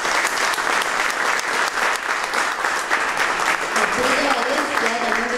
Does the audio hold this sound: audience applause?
yes